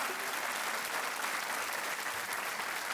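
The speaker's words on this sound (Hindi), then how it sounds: "और तालियां बजती रहनी चाहिए" Studio audience applause on the Hindi TV quiz show Kaun Banega Crorepati, a steady, dense wash of clapping that stays loud and even for the whole stretch with no voices over it.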